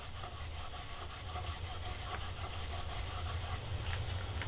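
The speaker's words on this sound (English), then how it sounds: "We are going to use our embossing buddy again. And I'm just going to give it a good rub." An embossing buddy is rubbed over black cardstock in a card-making project, a continuous close scratchy rubbing with quick, regular back-and-forth strokes.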